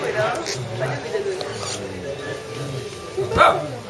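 Dogs barking in short, irregular yaps, a sharper bark near the end, heard under and between people talking close by.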